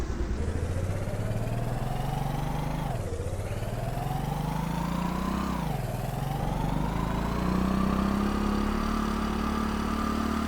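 Motorcycle engine in Apocalypse Rider VR, a loud, steady drone that dips in pitch twice as the bike shifts or slows, then climbs and holds high, no talking over it.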